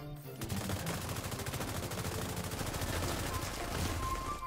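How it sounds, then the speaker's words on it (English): Rapid bursts of automatic gunfire from a shooter video game's Dark Zone fill the whole stretch, loud and continuous, with a brief quiet start before the shots begin. "Hey, buddy, why are you shooting me,"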